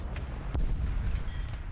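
A single deep tank cannon shot from an M4 in War Thunder booms at close range, its low rumble lingering under steady engine noise, with a fainter report following about a second later.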